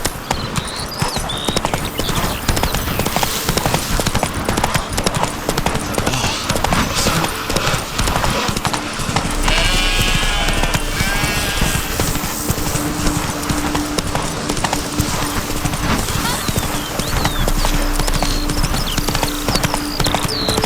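Roach, the horse in The Witcher 3: Blood and Wine, clip-clops at a steady walking rhythm over a long stretch, hooves loud and close, with a brief whinny midway and no talking.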